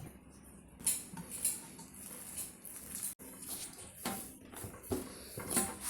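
A spoon clinks and scrapes in a bowl while mixing a potato batter with salt, baking powder, cornflour and rice flour, giving a steady, fairly close run of soft stirring, tapping and metal-on-dish clatter with no talking.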